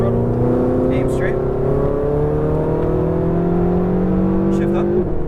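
Ferrari 488 GTB on a track pulls hard under throttle, its engine note rising in steady, overlapping harmonic sweeps heard loud and close from inside the car, with a brief instructor voice over it.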